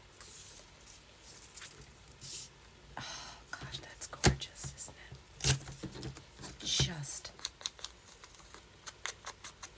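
Scissors snip a strip off crafting material in a few sharp, separate cuts, close to the listener, with a soft voice murmuring between the snips.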